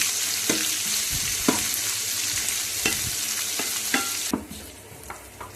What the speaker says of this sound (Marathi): आता या कांद्याला चांगलं लालसर कलर व्यवस्थित परतून घेऊ.